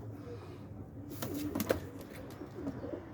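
A soft pigeon coo rises briefly over low background noise, close by and fairly faint.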